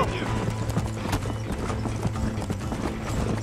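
Rapid, rhythmic clip-clop of a horse galloping in the Red Dead Redemption video game, steady and continuous throughout with game ambience underneath.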